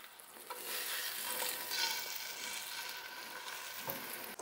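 Food fries in butter in a Henckels Capri Granitium nonstick skillet, a steady bright sizzle with soft stirring and scraping, close and continuous, with no talking.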